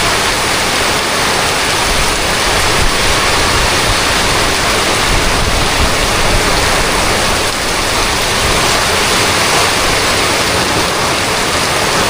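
Floodwater rushes powerfully while wind blasts during Typhoon Basyang, a loud, unbroken roar of water and gusts that stays constant and close throughout.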